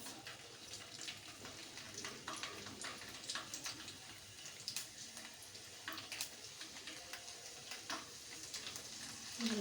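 Garlic cloves frying in hot oil for Kathiyawadi dahi tikhari, a steady crackling sizzle with scattered sharp pops that runs the whole time without any talking.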